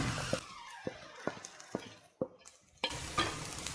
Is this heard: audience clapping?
no